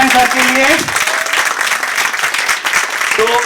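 Loud audience applause fills a short film screening event, dense and sustained for a few seconds, with a voice talking over it at the start and again near the end.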